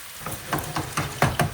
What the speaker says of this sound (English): I'm going to shallow fry these potatoes in batches until they're golden